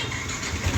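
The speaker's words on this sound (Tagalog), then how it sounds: "pero yung starter motor medyo mabagal" Yamaha NMAX scooter's sluggish starter motor cranking, a short low whirring churn heard close up with no voices.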